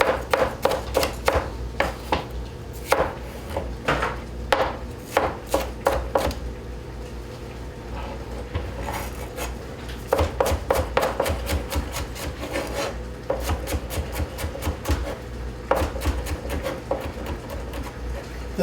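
Peppers chopped with a sharp knife on a cutting board: bursts of quick, crisp rhythmic taps, close and clear, separated by brief pauses.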